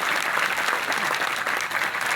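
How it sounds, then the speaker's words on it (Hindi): Audience applauding at a Kori Samaj community gathering honouring a local MLA, steady sustained clapping from a crowd throughout, fairly close and even in loudness. "देखिए तालियां बजती रहनी चाहिए।"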